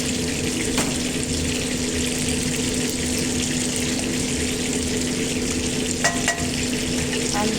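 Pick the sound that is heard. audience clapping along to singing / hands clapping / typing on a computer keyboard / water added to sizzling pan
water added to sizzling pan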